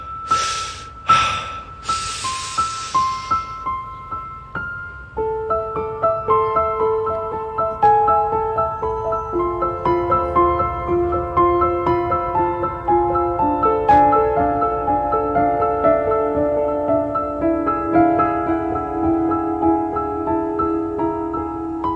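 Solo piano playing a slow, sustained melody with held chords, preceded by a few brief breathy noises at the start.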